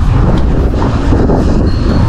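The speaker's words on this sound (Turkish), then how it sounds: "Acayip bir rüzgar başladı." Strong wind roars loudly across the microphone in a constant, heavy buffeting rush.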